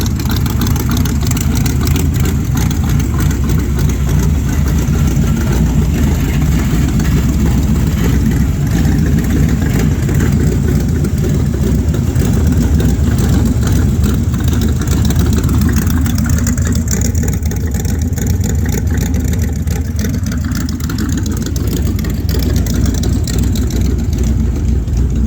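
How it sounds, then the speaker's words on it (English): Ratrod truck with an exposed engine and baffled exhaust idles steadily up close, a constant deep, moderately loud rumble with mild revs swelling and easing midway through. "Baffles sound pretty good, not too loud."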